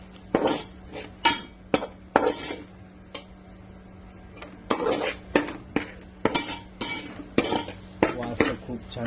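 A spoon stirs ground masala and salt together in a metal pot for Agri-style kolbi bhaath, with repeated scraping strokes and clinks against the pot and a soft sizzle underneath, fairly close.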